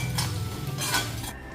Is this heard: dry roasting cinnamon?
yes